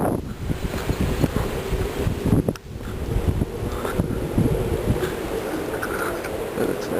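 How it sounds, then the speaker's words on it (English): Strong gusts buffet the microphone in an outdoor setting by a river or lake, a continuous low roaring rumble with brief dips and surges throughout, loud and close, with no other clear sounds. "You can pretty much tell it's very windy."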